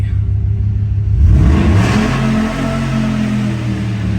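A 2011 Ford SVT Raptor pickup's engine fires up and settles into a loud, close, deep rumbling idle with a brief rev swell near the start, no talking over it.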